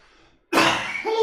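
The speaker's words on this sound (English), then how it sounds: "I have to cough." A single short, sharp cough bursts out after a quiet moment, close and fairly loud, with a brief vocal tail at the end.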